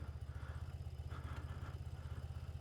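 A 1982 BMW R100 RT airhead motorcycle with a planetary gear starter idles nearby, its twin-cylinder engine giving a quiet, even, pulsing thump.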